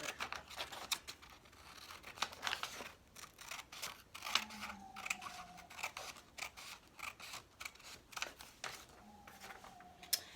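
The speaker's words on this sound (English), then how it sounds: "Now you use your scissors and you cut out your sheets of paper." Scissors cut sheets of paper for a handmade notebook: repeated close, crisp snips and blade slides in quick bursts with short pauses and faint paper rustling between, and no voices.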